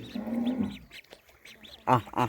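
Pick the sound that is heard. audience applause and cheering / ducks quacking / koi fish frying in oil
ducks quacking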